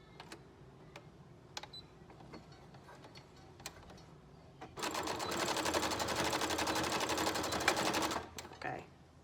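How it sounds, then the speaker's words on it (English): A sewing machine runs a straight stitch attaching elastic to a pleated fabric mask, a dense rapid whirring burst of several seconds after scattered clicks and handling taps, then a short final run. "I'm going to sew that piece. I'm just going to use a straight stitch."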